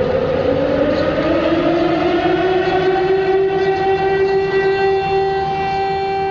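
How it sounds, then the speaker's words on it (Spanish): A loud, sustained morning city siren in North Korea wails with a slowly rising pitch, steady and unbroken, carrying over a faint rumble of background noise. "suena una sirena para despertar a la ciudad y sus moradores"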